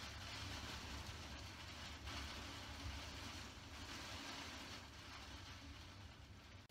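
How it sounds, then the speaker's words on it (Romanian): Heavy rain and a storm pour down outside a room, a steady broadband roar that stays fairly faint and constant throughout with no talk. "Deci voi auziți cum plouă afară?"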